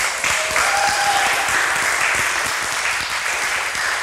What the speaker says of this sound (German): bitte gebt uns jetzt den Applaus für die erste